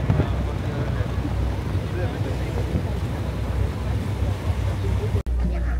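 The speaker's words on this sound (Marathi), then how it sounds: "आणि बोट आता मस्त आयलंडकडे चाललो आहे" A boat crossing the water to Nami Island, a steady low engine rumble with rushing wind and water noise buffeting the microphone, continuous throughout.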